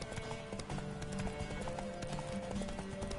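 Horse hooves clip-clop in The Witcher 3 on PS4, a quiet steady trot blended with game ambience and background music, with no voices over it.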